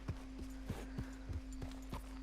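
Steady clip-clop of a horse's hooves walking at an even rhythm in Red Dead Redemption 2, soft and close over a low constant hum.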